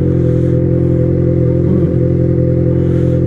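A car fitted with a 4-inch exhaust idles and revs loudly up close, a deep steady droning rumble with a brief rise in pitch midway, heard alone without talk.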